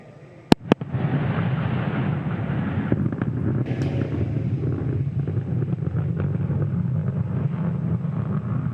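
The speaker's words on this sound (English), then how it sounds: "There you can see the landing burn has begun on Falcon 9" A SpaceX Falcon 9 first stage fires its landing burn: two sharp cracks are followed by a sustained, broad rumbling roar that holds steady to the end.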